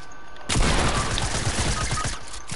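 Rapid video game gunfire bursts out after a brief quiet start, a loud dense fusillade of overlapping shots and booms lasting a couple of seconds with no talk over it.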